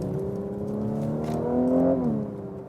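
A Mercedes C450 AMG with a V6 engine accelerates in sport mode, its close, steady tone rising in pitch over about two seconds before the revs drop sharply.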